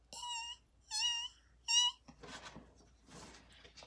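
A voice imitates a baby bear's high, squeaky snores during a Goldilocks and the Three Bears story, three short squeaky wavering calls followed by soft breathy sounds.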